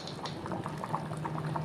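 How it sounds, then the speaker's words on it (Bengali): Mutton biryani bubbling at a steady boil in a pressure cooker before the lid is locked, a soft continuous patter of popping bubbles with no talk. "দেখেন ভালো করে বলক চলে আসছে, আর অল্প বলক উঠুক ভালো করে"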